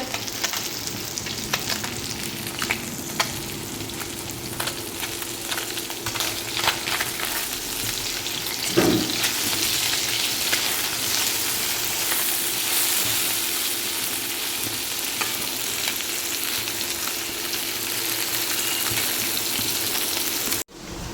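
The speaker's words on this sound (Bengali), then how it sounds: "এই যে তোমার মাছ ভাজা হচ্ছে" Fish frying in a pan, a loud, dense and continuous sizzle with light crackling heard up close, steady throughout with a single brief bump midway, and no talk.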